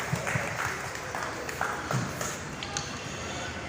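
Audience clapping for guests at a Rotary club awareness event in an outdoor park, a loose spatter of claps at moderate distance, fairly faint over a murmur of crowd noise.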